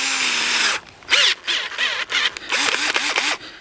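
A power drill spinning a rubber eraser wheel whirs in several short bursts, its pitch climbing and dropping as it speeds up and slows down, loud and close with no talking.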